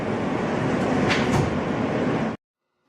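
A New York subway N train riding at night, a loud steady rumble of wheels and carriage noise with faint squeals, cutting off abruptly near the end.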